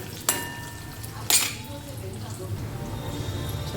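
Peanuts and chana dal roasting in a pan as they are stirred, with two sharp clinks of a spoon against the metal over a low, steady sizzle while someone speaks.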